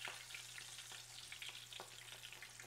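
Coconut shrimp deep frying in a pot of hot oil, a steady, soft sizzling hiss with faint crackles and pops scattered throughout, no voices.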